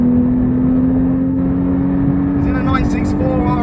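A Porsche 911 Carrera T driving on track, heard as a steady, loud engine drone from inside the cabin, with a voice briefly audible near the end.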